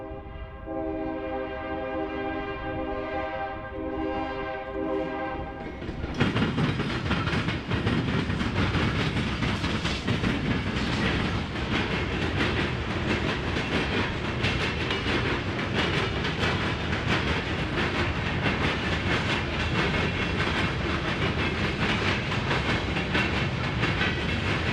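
A CSX freight train led by locomotives 5475 and 7235 heads north on the Columbus sub, the former Chesapeake and Ohio line in Ohio. A sustained horn chord comes first, then the loud, close roar and rumble of the train passing continuously.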